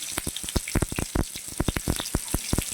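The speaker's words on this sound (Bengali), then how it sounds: "কেটে রেখেছি একটা টমেটো সেটা দিয়ে দিলাম সেটা সুন্দর করে কষিয়ে নিয়ে" Chopped tomato fries in a pan, throwing off loud, close, irregular crackles and sharp spattering pops over a hissing bed of oil.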